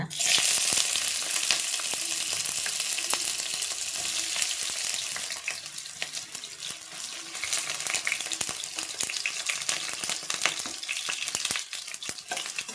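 Hot oil sizzling loudly as seasonings and ingredients go into a pan for a broad bean and tomato curry, a dense, steady close frying hiss with stirring scrapes and no talking.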